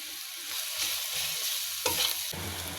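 Garlic sizzling in hot oil in a pan as it is stirred for egg bhuna, a steady close frying hiss broken by scraping stirs, with a louder burst of sizzle near the end.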